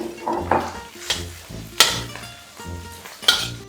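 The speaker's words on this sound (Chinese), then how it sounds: "再放入辣椒干炒香" Dried chilies and cabbage stir-fried in a wok after ginger in hot oil: a steady sizzle broken by several sharp scraping clinks of the spatula against the pan, close and fairly loud, with no talking.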